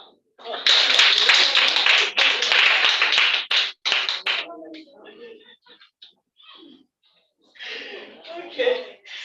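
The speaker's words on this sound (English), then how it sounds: "Clap." A class in a room claps their hands in a loud, close burst of several seconds, which breaks off into scattered quieter claps and a few murmurs before a short second round of clapping.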